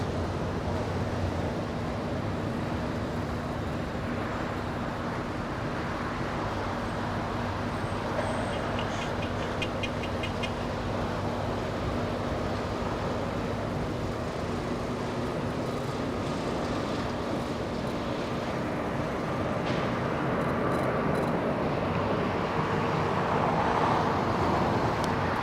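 An Asiana airliner taking off at LAX gives a steady, broad roar of jet engines that holds at a constant loud level throughout, with faint distant traffic-like rumble mixed in and no voices.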